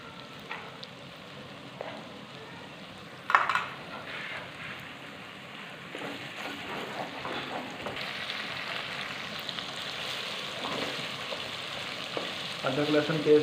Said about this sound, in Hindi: अदरक लहसुन थोड़ी देर और मज़ीद इसको ब्राउन कर लेते हैं।